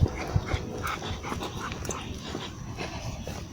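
A dog on a riverside greenway walking path gives a few faint yips and whimpers early on over a background of distant outdoor noise, with no talk.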